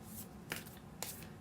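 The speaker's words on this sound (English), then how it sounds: "This deck is kind of hard for me to shuffle." A deck of tarot cards being shuffled, two quick crisp riffle bursts close to the microphone over a quiet background.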